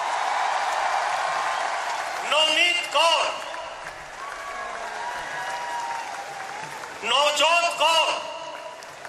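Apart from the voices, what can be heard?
audience applause welcoming Olympic athletes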